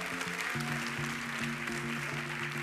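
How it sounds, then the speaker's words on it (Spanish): An audience applauds the musicians who accompanied a singer's Ave Maria at a Got Talent Uruguay semifinal. The clapping is a steady, dense wash for the whole stretch, with low sustained tones running beneath it. "Un gran aplauso también para los músicos que acompañaron a Daniela."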